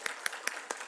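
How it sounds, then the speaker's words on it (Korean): A church congregation claps during a Sunday worship service, with five distinct claps spaced roughly evenly across a single second. The claps are moderately loud, with no talk over them. "성령님께 먼저 감사의 박수, 우리 환영의 박수, 감사의 박수,"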